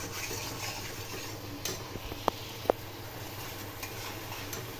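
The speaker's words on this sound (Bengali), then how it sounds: "নুন দিয়ে নেড়ে চেড়ে" Vegetables being stirred in a pan after salt is added, a soft steady scraping and rubbing with faint sizzling, plus two sharp clicks of utensil against the pan, fairly quiet and with no talking.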